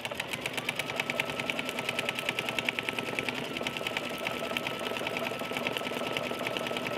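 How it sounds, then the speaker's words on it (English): An embroidery machine stitches the mouth and nose of a bear lovey in the hoop, a steady, rapid mechanical chatter of needle strokes that runs close and continuous throughout. "First, it's gonna stitch the mouth and the nose,"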